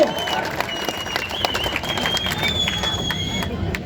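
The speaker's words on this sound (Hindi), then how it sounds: "ठोको ताली, ठोको ठोको ताली ठोको।" Crowd clapping at an Indian political rally in Aurangabad, a steady, dense patter of applause held under faint background tones across the whole stretch.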